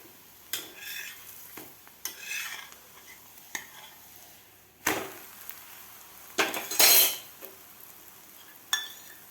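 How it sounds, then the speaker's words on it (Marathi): A mixed vegetable paratha roasts on a pan under a soft, steady sizzle, broken by occasional scraping and clinks of a spatula against the metal. "दोन्ही साईडकडून असं चांगला व्यवस्थित पराठा भाजून घ्यायचा"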